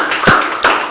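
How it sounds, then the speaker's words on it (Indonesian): Children in a classroom lesson clap their hands: two sharp, close claps about a third of a second apart, loud and without talk. "tepuk tangan dulu lah"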